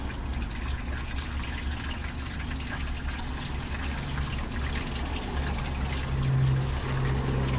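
Water runs from an opened tap valve into a budget gold prospecting setup with a small screen and pipe, a steady close trickle and splash that continues evenly.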